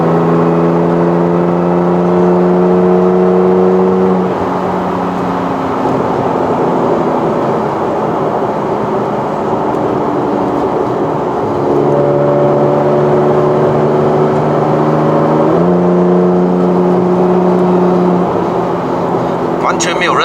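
A 2015 Porsche 911 GT3 RS with a rear-mounted boxer engine hums and drones from inside the cabin while driving, its tone rising and falling through gear changes. Someone talks over the engine note throughout.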